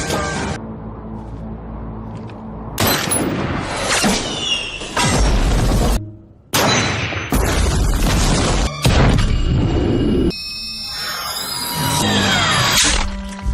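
Bomb blast in an action film about elite Chinese soldiers fighting terrorists: heavy booms and crashing debris come in several loud bursts, separated by brief near-silent cuts, with clattering and shattering layered throughout.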